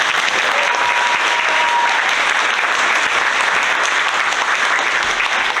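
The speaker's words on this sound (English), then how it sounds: "If we give them all a huge round of applause." Loud, sustained applause from the crowd at a Chamber of Commerce gala in Sitka, steady clapping filling the room throughout with no break.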